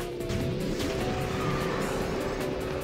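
A kart drifts in KartRider Rush+, its engine roaring loud and steady with a squealing slide running throughout, close and unbroken, with no voices.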